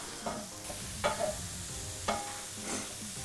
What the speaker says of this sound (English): In goes our chopped mushrooms into the pan.